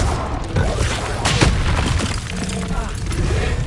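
A Bombarda blasting spell explodes in Hogwarts Legacy, a loud booming burst over a dense, noisy background of continuous combat sound.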